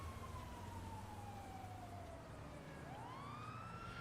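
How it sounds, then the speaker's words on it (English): A police siren wails in the distance, its pitch sliding down and then sweeping back up over low traffic rumble. "I hear a police car."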